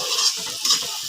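Tomatoes and fish fry in a pan with a bright, steady sizzle, while two quick scraping strokes of a stirring utensil rise and fall close by.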